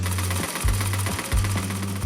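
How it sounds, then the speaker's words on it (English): A pedal sewing machine stitching table linens, loud rhythmic mechanical whirring in short bursts separated by brief pauses, close by. "With one pedal sewing machine donated by the hospital, the mothers learned to sew table linens"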